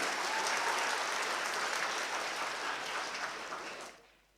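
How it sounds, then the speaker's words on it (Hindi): An inauguration-ceremony audience applauds Khalil Sahab with a dense, steady wash of clapping from many hands. It holds strong for about four seconds, then fades out quickly. "तालियां होनी चाहिए बिल्कुल खलील साहब के लिए।"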